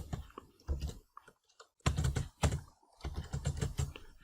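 Computer keyboard typing in short bursts of quick clicking keystrokes with brief pauses between, close and moderately quiet, no talking.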